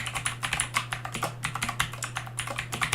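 Rapid, close clicking of a computer keyboard as someone types steadily, keys tapping in an irregular quick rhythm with no voices.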